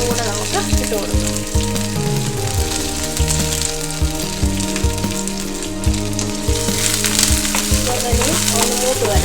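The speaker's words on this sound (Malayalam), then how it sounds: "കറിവേപ്പില ഇടുകയാണ്. ഒരു 3 വറ്റൽമുളകും കൂടെ നമുക്ക് ഇട്ട് കൊടുക്കാം." Curry leaves and dried red chillies fry in hot oil with a loud, steady sizzle and crackle, busy and close throughout, with occasional stirring.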